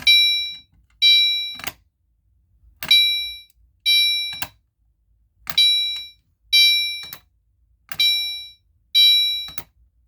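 Fire alarm system sounding code 2 during a test: repeated pairs of short bright electronic tones, each ending in a sharp click, pulsing in a steady rhythm with silent gaps between, close and clear with no talking.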